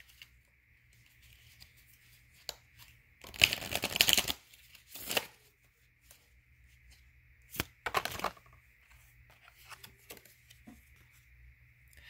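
Tarot cards being shuffled in a quiet room, two short bursts of riffling and rustling card noise separated by soft handling taps, close and fairly faint, with no talking.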